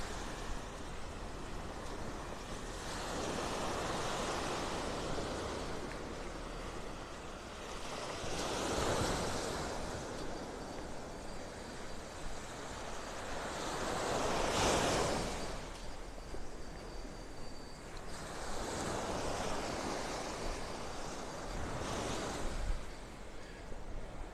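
Steady roaring wind buffets the microphone on a beach in North Naples, Florida, with broad rushing noise, swelling in a few slow gusts, and surf may be washing in underneath; no voices.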